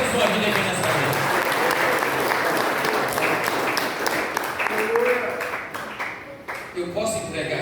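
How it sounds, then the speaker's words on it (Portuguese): Thanksgiving service congregation gives sustained applause to God for a pastor's family, dense clapping that gradually thins and fades, with a few voices surfacing near the end. "Então eu quero pedir uma linda salva de palmas a Deus pela vida da família do pastor Ricardo"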